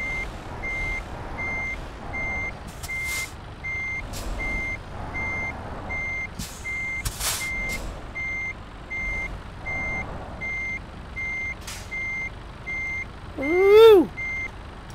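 Truck in Euro Truck Simulator 2 reversing a trailer into a parking spot, a steady repeating reversing beep running throughout over a low engine hum, with a rising-and-falling tonal sweep near the end.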